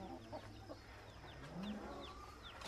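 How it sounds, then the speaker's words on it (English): Chickens on a small farm in Tanzania cluck and chirp softly in the background, faint and somewhat distant against low outdoor ambience, with no talking. "And the other chicken are here."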